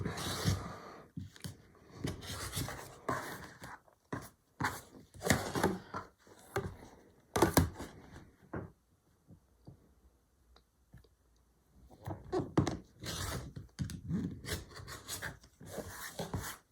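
A rotary cutter and ruler trim fabric half square triangles for a big star quilt block, with repeated close raspy slicing strokes in bursts separated by brief quiet pauses.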